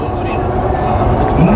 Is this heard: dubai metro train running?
yes